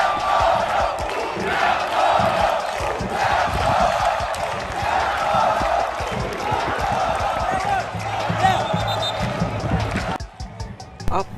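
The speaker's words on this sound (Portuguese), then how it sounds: "a torcida vai à loucura com a esperança do time" A football crowd in a Paraíba stadium roars and cheers wildly, a dense, loud wall of voices that keeps going, with a voice speaking over it.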